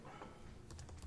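Quick, light keystrokes on a computer keyboard tap out a short run of soft clicks against a low room hum.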